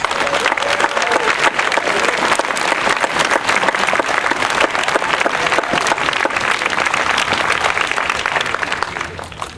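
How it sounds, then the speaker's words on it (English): A school convocation audience claps in dense, sustained applause that stays loud and even for roughly ten seconds in an indoor hall, with no clear talk over it. "let's give them a round of applause"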